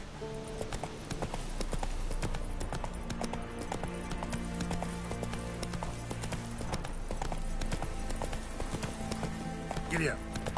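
A horse gallops in the video game The Witcher 3, its rapid rhythmic hoofbeats running steadily under in-game music and a speaking voice.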